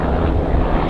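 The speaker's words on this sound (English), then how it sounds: "There's like helicopters flying all over the place." A helicopter flies overhead, a loud, steady rumbling drone with wind buffeting, continuous through the whole brief moment.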